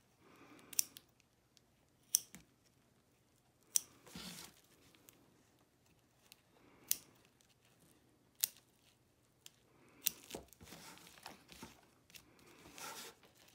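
Scissors trim fabric close to the embroidery stitches of an in-the-hoop Linzer cookie ornament, a series of quiet, crisp snips spaced a second or two apart in an otherwise silent room.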